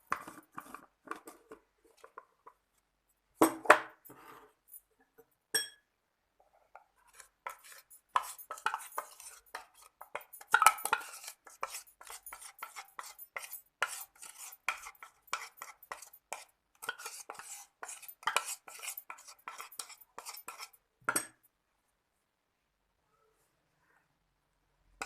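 A spoon scraping and clinking inside a blender jar as a blended skin whitening mask is scooped out, giving quick, uneven bursts of knocks and scrapes with short silent gaps between them.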